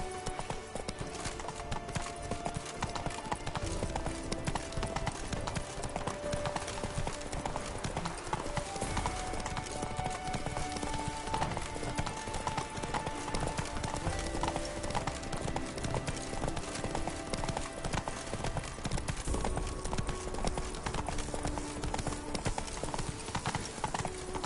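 Roach, the horse in The Witcher 3, trots with a dense, steady clip-clop of hooves that runs throughout, loud and close, with faint game ambience and brief voices beneath.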